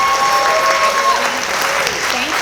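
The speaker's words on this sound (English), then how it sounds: "Please, again, a round of applause for these individuals." Audience members at an awards ceremony applaud long-serving retiring school employees, sustained crowd clapping filling the room, with a held tone and brief murmurs fading in the background.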